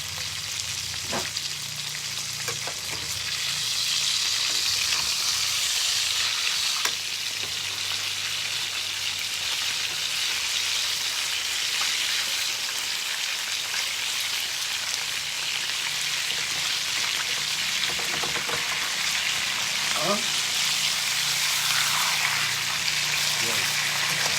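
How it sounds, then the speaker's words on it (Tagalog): Milkfish sizzles and crackles steadily in hot oil, a constant frying hiss close by, with occasional spatters and light movement. "Pritong isda natin, baliktarin na natin dahil namumuti-muti na siya"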